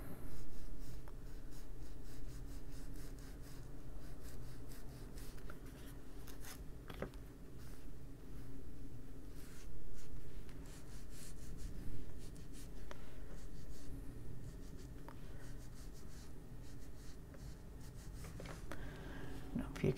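Colored pencil scratching steadily across a page of an adult coloring book, close and continuous for about twenty seconds in short repeated strokes with only brief pauses.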